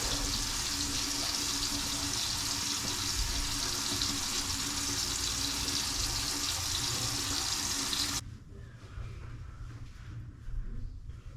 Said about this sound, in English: So I'm gonna rinse out my eyes because they black